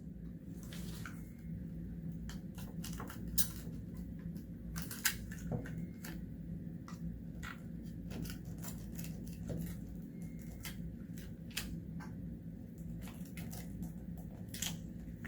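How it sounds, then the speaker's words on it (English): A razor blade trims excess foil on a sensor setup, giving a run of faint, scattered clicks and scratchy snips over a steady low background hum. "Then I'm just going to take a razor blade and cut off the excess."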